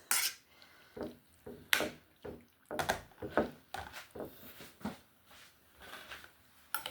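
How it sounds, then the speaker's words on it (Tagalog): Macaroni noodles tipped into a cooked salad mix in a bowl, bringing a string of irregular clinks, taps and scrapes of utensils against dishes at close range. "Ilalagay na natin ang last na ingredients natin na noodles."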